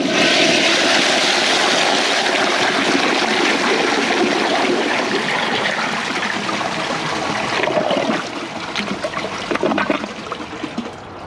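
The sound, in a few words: old high-tank toilet flushing with clogged siphon jet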